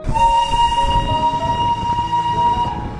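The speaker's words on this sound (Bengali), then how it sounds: "নজরে পড়ল দার্জিলিং এর ঐতিহ্যবাহী টয় ট্রেন" The Darjeeling heritage toy train, a narrow-gauge hill railway, sounds a loud sustained horn close by over the rumble and clatter of its moving wagons.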